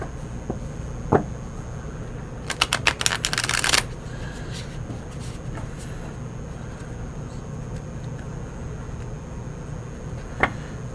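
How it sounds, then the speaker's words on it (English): A brief, crisp riffle of tarot cards fluttering for about a second, surrounded by a quiet room with a few soft taps and clicks. "let's just do a couple more shuffles here"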